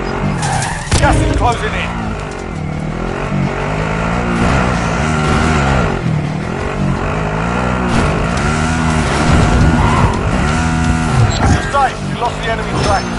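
A car driven in the video game Warzone, engine droning steadily with rising and falling revs and tire squeal, loud and continuous under in-game radio voices and player talk.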